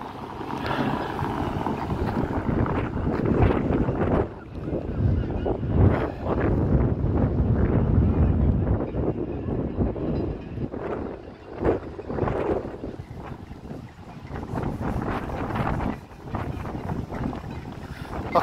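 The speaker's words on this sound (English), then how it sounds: "It's very windy today in Scarborough, I must say." Strong wind on the Scarborough seafront buffets the microphone in heavy, uneven gusts, a loud, rumbling roar that swells and eases throughout.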